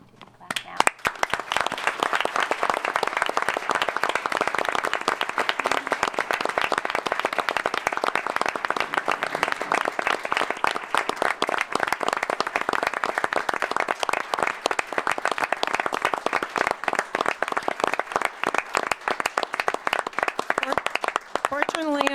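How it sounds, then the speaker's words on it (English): Sustained applause from the audience at a Decorah city council meeting, even, continuous clapping from a room full of people that holds steady for about twenty seconds. "Clap now."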